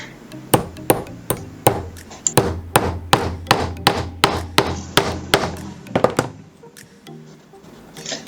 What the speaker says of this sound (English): And just hammer it back into your wood.